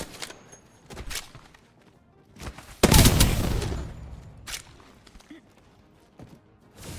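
Gunfire in Apex Legends, a few scattered sharp shots followed by one loud heavy burst and a short decaying rumble, then more spaced-out shots, with a voice talking over it.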